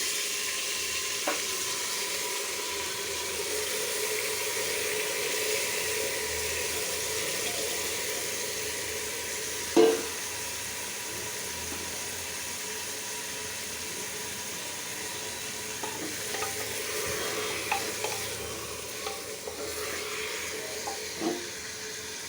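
Beef dropped into hot whole spices in a pan, giving a steady close sizzle with a few sharp clinks and scrapes of stirring, no talking.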